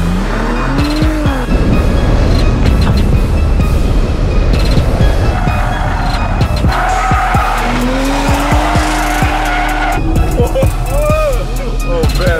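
A car drives over banana peels and skids with loud tire squeal and engine revving, close and continuous throughout, while voices come through faintly underneath.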